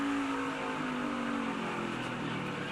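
A NASCAR Xfinity Series race car's engine drones steadily and close with a falling note as it shifts down into third gear, then pulls away as the roar carries on.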